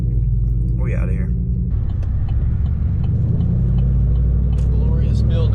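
Chevrolet Silverado 5.3 pickup with true dual straight-pipe exhaust pulling away, a loud constant low rumble throughout with people talking over it.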